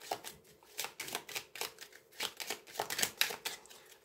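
A deck of tarot cards is shuffled by hand in quick, soft riffling bursts, with irregular papery flicks and slaps that sound close and fairly quiet.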